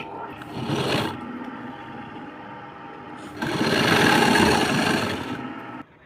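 Sewing machine stitching the folded sleeve edge of a princess-cut blouse, running in two bursts of steady, close mechanical whirring with a brief lighter pause between them.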